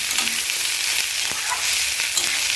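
Food frying in a kadai during home cooking, a steady broadband sizzle throughout with a few faint stirring clicks, close and fairly loud with no talking.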